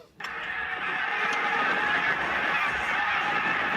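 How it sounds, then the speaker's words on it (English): A large flock of geese honks overhead in a dense, overlapping clamor that runs without pause, steady and fairly loud, like a crowd chattering, in Winnipeg, Manitoba. "Busy sky full of geese."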